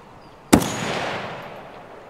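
A single sharp gunshot in the game Escape From Tarkov cracks out loud and close, then leaves a long, broad echo that fades over roughly a second and a half.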